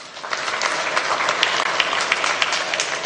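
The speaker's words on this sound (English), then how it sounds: "Please, he deserves another round of applause." An audience gives a dense, continuous round of applause at a gas infrastructure commissioning ceremony in Imo, many hands clapping together at a steady, fairly loud level throughout.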